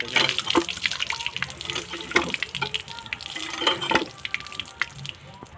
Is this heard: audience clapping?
no